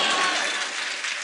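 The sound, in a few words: audience applause at poetry mushaira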